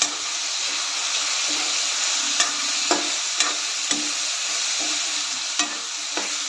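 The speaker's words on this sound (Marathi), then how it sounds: "अर्धा चमचा हिंग सर्व मिक्स करून घेते" Half a spoon of asafoetida stirred into bottle gourd curry in a pan, with loud steady sizzling throughout and a few sharp spoon clinks against the pan, near and with no voices.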